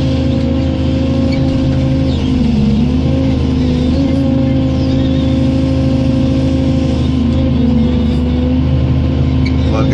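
A heavy work machine runs under load, its engine droning loud and steady with a constant low hum and slight pitch wavers, close by and uninterrupted.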